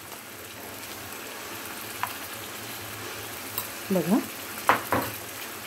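Coconut, tomato, onion, ginger-garlic masala paste sautéing in a pan gives a soft, steady sizzle, with a few louder stirring scrapes toward the end and a brief spoken word.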